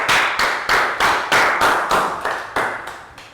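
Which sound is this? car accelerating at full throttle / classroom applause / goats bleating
classroom applause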